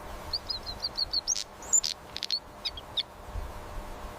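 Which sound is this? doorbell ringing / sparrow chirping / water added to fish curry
sparrow chirping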